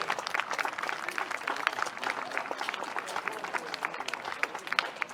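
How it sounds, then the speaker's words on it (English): Crowd at a powwow-style gathering clapping after a pipe ceremony, a dense steady patter of many hands at moderate distance, with faint voices mixed underneath. "A big round of applause for them"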